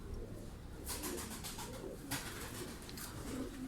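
Costume-breed pigeons coo in a breeder's loft in Karacabey, Bursa, low rolling calls repeating under scattered wing flutters and rustling, moderately close, with no talking.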